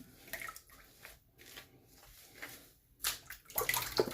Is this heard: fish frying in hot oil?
no